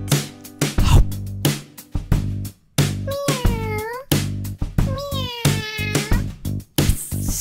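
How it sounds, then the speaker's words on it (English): A cat meows twice, with drawn-out rising and falling cries, over the bouncy music of a children's Halloween song about a black cat. The music plays throughout and stays prominent. "What's that sound? A black cat!"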